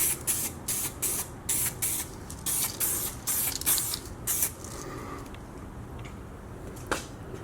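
Satin paint sprayed onto a car exhaust setup from an aerosol can in a series of short, close hissing bursts, then a quieter stretch with one last brief spray.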